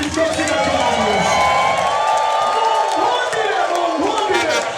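A church congregation cheers and ululates in worship, a loud sustained roar of voices with high trilling ululation rising over the crowd throughout.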